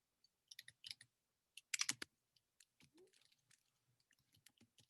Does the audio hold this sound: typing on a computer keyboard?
yes